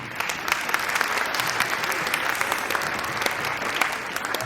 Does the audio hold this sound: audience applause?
yes